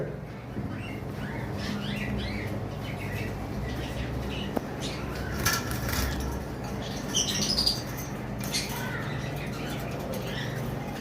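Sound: yellow collar lovebirds calling

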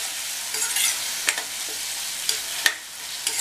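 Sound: sautéing ground onion paste with curry leaves on low flame

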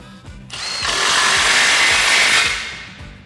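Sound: socket wrench tightening exhaust system bolts on F150

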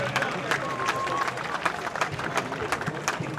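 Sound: audience applauding for the President of the Republic

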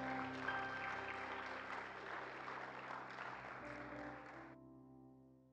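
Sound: audience clapping hands in church

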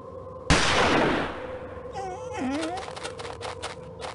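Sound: gunshot in video game

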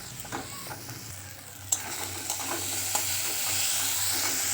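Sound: frying and stirring ground spice paste with tomatoes

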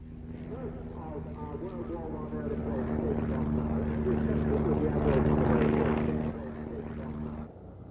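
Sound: Avro 504 biplane flying in air display

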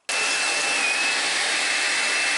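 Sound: Makita DCL180Z cordless vacuum cleaner running

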